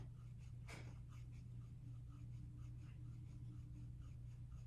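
Colored pencil in a peach shade drawn across paper, with one sharp scratchy stroke near the start and then soft, faint, intermittent scribbling over a steady low background hum.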